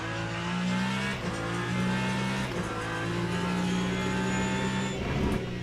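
A Ferrari race car engine in the racing game Le Mans Ultimate drones loudly and steadily at high revs at Interlagos, with brief dips as it shifts gears, heard close throughout.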